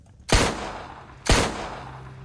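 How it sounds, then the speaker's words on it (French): Two sharp gunshot sound effects are played during a Call of Cthulhu tabletop roleplaying session. Each is a loud, abrupt crack with a short decaying tail, spaced about a second apart, with no talking. "Des coups de feu. Ils se sont entretués."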